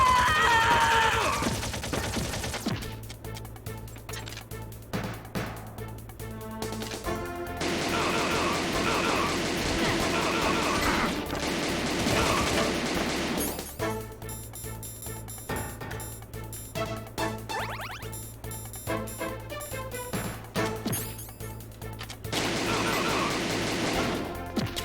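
Rapid bursts of gunfire in Metal Gear Solid, played on Dreamcast through the Bleem emulator, come in dense loud volleys over a steady game backdrop, with brief pauses between the bursts.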